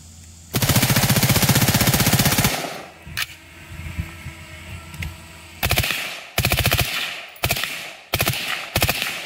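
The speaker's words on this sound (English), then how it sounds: "The OSS suppressor, full auto machine gun." A suppressed MK18 Mod 0 upper, a post-sample dealer machine gun fitted with an OSS suppressor, fires on full auto: one long sustained burst of about two seconds, then several shorter rapid bursts, loud and close with no talking.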